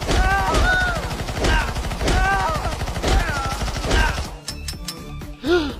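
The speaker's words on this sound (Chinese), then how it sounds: "我直接架起2把冲锋枪。 等进入我的射击范围后，我直接疯狂扫射起来。" Two animated submachine guns spray in long, rapid bursts, several rattling volleys that follow one another, close and loud, mixed with cartoon sound effects. Sharp isolated cracks and a short tonal whoop come at the end.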